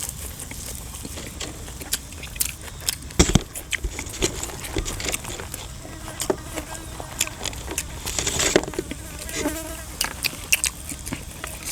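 Outdoors in Isan, cicadas buzz in a steady insect drone, overlaid by scattered ticks and pops close by, at moderate loudness with no talking.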